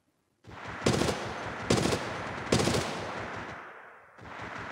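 Automatic gunfire from Apex Legends Mobile in first-person mode: three loud, sharp bursts of rapid shots over a steady roar of continuous fire, with a short lull before the firing resumes.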